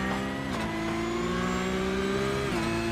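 Onboard a Porsche Cup race car at Spa-Francorchamps, the engine howls steadily at high revs, dipping briefly at two gear changes before climbing again, loud and close throughout.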